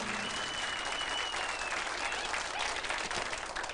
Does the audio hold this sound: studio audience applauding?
yes